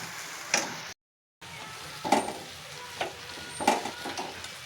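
Semolina and coconut modak mixture being stirred in a pan on a gas stove, giving a few soft scraping strokes and a light sizzle with a short silent gap, no talking.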